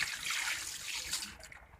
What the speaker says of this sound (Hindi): 1 लीटर इसके अंदर पानी ऐड किया है।